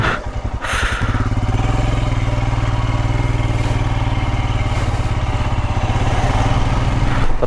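A motorcycle ridden near Bangadi in Belthangady gives a loud, close engine drone, steady and rumbling from start to finish after a short sputter at the beginning.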